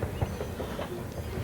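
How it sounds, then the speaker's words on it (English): Freight train of coal cars passes by railroad tracks, rolling with rhythmic clickety-clack wheel beats and a low rumble at moderate distance, with no speech. "Those are all coal cars."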